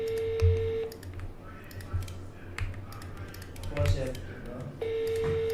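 A telephone is dialed for a call: a steady dial tone opens and returns at the end, with a series of short keypress beeps and clicks in between, and voices talking nearby.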